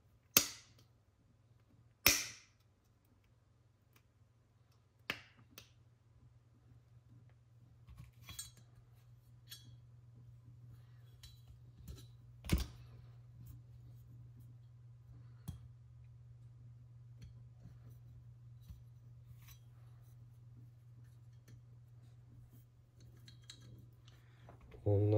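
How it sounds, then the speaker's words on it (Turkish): Small metal clicks and ticks while the magazine release part is fitted into a 1995 CZ 75 B pistol during reassembly, a few sharp snaps early on, then sparse faint taps over a steady low hum. "Önce şarjör çıkarma aparatımızı takalım."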